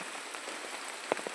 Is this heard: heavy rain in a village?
yes